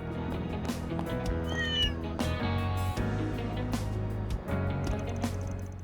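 A cat meows in the video game Trails Through Daybreak II, a short rising mew heard over steady game music and effects, fairly clear near the start of the passage.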